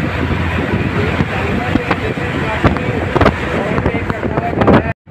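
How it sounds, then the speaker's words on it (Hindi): Motorbike riding through the long Lowari tunnel in Pakistan: a loud, dense roar of engine and wind rumbling and echoing continuously, with a voice partly audible under it, ending abruptly. "ये टनल का मज़ेदार माहौल है जिसकी आवाज़ें कैसी आ रही हैं, ज़बरदस्त किस्म का।"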